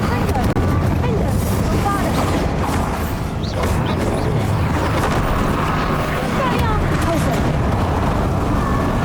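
Incendio fire spells cast in the Hogwarts Legacy video game roar in a steady, loud rumble of bursts and booms, with voices speaking over the fiery combat.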